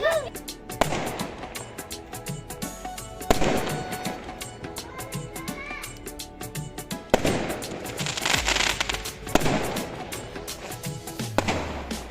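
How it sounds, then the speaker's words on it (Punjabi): Firecrackers burst repeatedly with sharp cracks and booms, some close and loud, others farther off, with crackling and voices in the background, during celebrations of the Ayodhya Ram temple inauguration. "ਇੱਥੇ ਪਟਾਕੇ ਚੱਲਣ ਡਿਆ"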